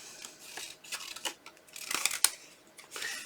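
Scissors cut out a stamped paper flower in a series of quick, close, fairly quiet snips and rustles.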